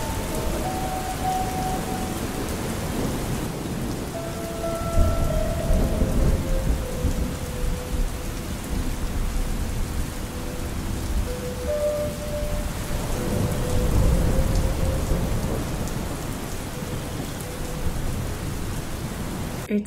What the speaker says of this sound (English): It's raining so much and there's so much thunder and lightning.